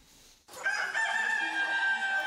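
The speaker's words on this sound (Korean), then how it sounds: "닭장 속 암탉들의 움직임이 부산합니다" Blue-egg-laying hens bustle in a chicken coop; after a brief quiet moment, a loud, sustained rooster-like crowing call rises close by and fills the rest of the clip.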